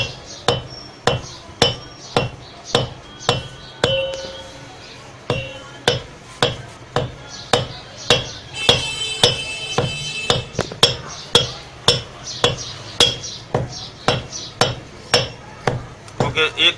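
Nux vomica (kuchla) seeds pounded by hand, loud regular hammer-like blows repeating about once per second, each a sharp knock with a short ring, steady throughout with no speech.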